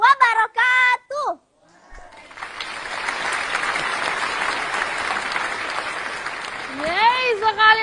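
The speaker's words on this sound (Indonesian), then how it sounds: "sekali lagi kita kasih tepuk tangan yang luar biasa" An audience at a children's TV show with students from an Islamic elementary school in Jambi, Indonesia, bursts into sustained applause that swells and holds for several seconds. A host speaks briefly before and after.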